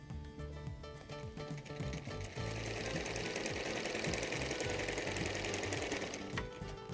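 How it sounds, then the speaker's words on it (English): A sewing machine runs continuously, sewing bias binding onto fabric edges with a loud, dense, rattling hum at close range and no pauses. "Then we move it back under the machine and start sewing from the very edge."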